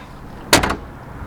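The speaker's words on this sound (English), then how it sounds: "And listen to the door close." A car door with original factory hardware swings shut in one solid thump, followed by a brief rattling settle, close and clear over a quiet outdoor hiss.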